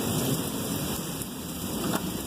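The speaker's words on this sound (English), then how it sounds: "Still thundering." Heavy rain pours steadily during a thunderstorm, a dense, close hiss with a low rumble of thunder underneath and no talking.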